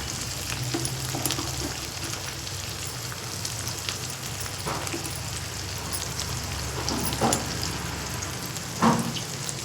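Coriander and red chili powder frying in a pan for a cabbage dish, a steady close sizzle with scattered crackles and pops over a continuous hiss, no talking.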